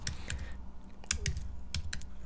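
Quick, crisp keystrokes on a computer keyboard as a folder name is typed while renaming a chart folder. The clicks are close and irregular, arriving in small bursts.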